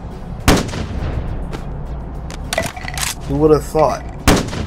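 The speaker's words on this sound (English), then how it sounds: "So now we can fire a shotgun shell. No, not from you. From a sniper rifle." A shotgun shell fired from a sniper rifle in the VR game Bonelab booms sharply, with a few loud shots spaced across the moment, metallic handling clatter between them and someone talking over it.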